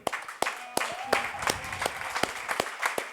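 An audience at a music technology event gives sparse, scattered clapping, with individual claps spaced out rather than a dense ovation, and faint voices underneath.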